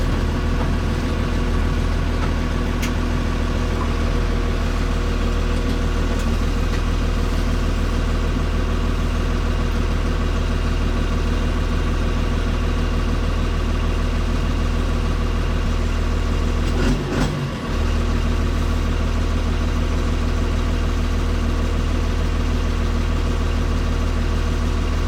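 Cummins diesel engine in a first-gen truck fitted with a Getrag G360 gearbox, idling loud and steady with a deep continuous rumble, close up, a brief dip near the end, no talking.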